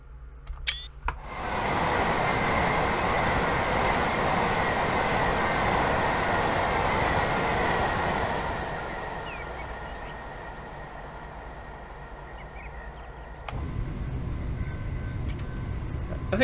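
An AP Class 377 electric train runs on the Brighton to London Victoria line in Train Sim 2021, a loud steady roar of motion that eases to a quieter rumble, then swells again near the end.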